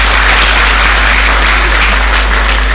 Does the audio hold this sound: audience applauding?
yes